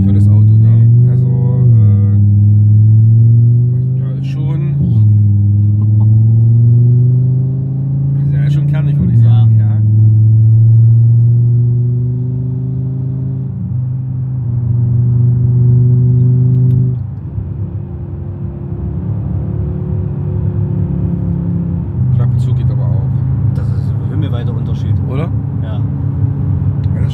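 Engine of a 2022 bagged Audi RS 3 Sportback with a 3.5-inch exhaust system, a loud, steady droning rumble that shifts pitch in several stages as the car drives, heard continuously under someone talking.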